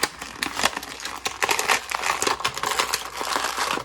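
A plastic blister card of a retro-carded G.I. Joe Classified Lady Jaye action figure being pried open, giving close crackling, crinkling plastic with several sharp pops and snaps over a few seconds, with no talk.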